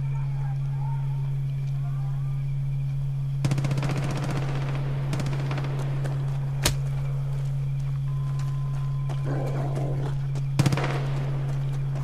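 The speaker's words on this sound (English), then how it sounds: "No, don't shoot the gun..." Automatic gunfire in the Far Cry 5 video game, a dense rattling burst around mid-clip followed by a few isolated sharp shots, over a steady low hum and game ambience.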